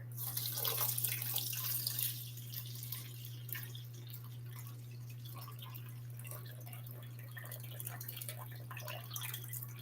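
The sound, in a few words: warm water poured into a bowl for sourdough bread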